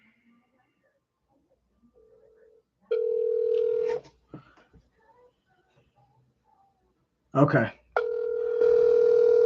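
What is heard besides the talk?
telephone dial tone while calling a phone number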